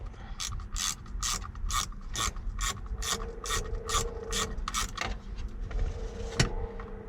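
A ratchet wrench tightens a part on a Ford F-series truck's temperature control switch, giving a close run of about a dozen evenly spaced clicking strokes that end in a single sharp clack.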